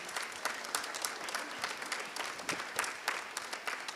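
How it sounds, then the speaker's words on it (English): Audience applause at a middle school spring orchestra and chorus concert, steady dense clapping throughout with individual claps standing out, moderately distant and fairly quiet. "Can you all give them a round of applause, please?"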